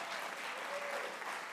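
Audience at a live-stream concert event applauding in a steady, moderately distant wash of many hands, continuous and even throughout.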